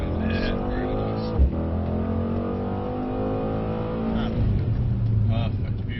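A Mercedes C63 accelerating from a normal takeoff, with a steady engine drone that rises slightly in pitch and a brief thump partway through.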